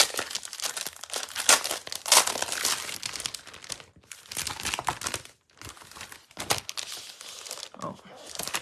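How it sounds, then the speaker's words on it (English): A package of Thoughtful Designs specialty paper is opened, with loud crinkling and tearing of plastic wrap in irregular bursts and short pauses, close by, while a person talks intermittently. "And let's open this one. This is Thoughtful Journey, Thoughtful Designs specialty paper."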